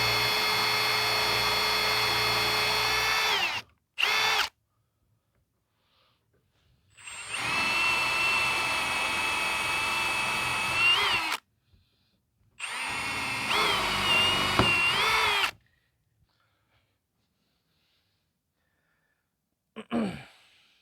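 A power drill bores a hole in wood while a fence latch is installed, whining in three separate runs of a few seconds each with short silences between, the motor pitch wavering under load, then a faint brief knock at the end.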